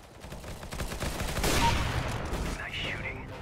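A single loud AWP rifle shot rings out in the CS:GO video game, rising from lighter background gunfire and leaving a fading tail.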